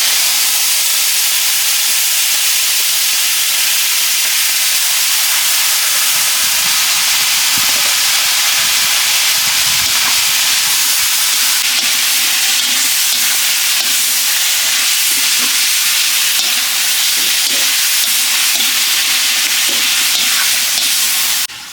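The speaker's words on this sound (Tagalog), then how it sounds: "inuna natin yung liempo igisa para lumabas yung simong taba niya para maging mantika na rin natin" Liempo pork belly sautéing in a pan as its fat renders out for a pork kaldereta, a steady loud hiss and sizzle with faint crackles throughout and no talking.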